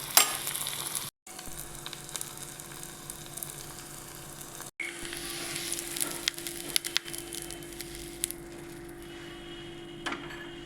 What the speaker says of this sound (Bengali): আমি এটার মধ্যে তেলের মধ্যে পেঁয়াজ, রসুন, লঙ্কাগুলোকে ভাজছি।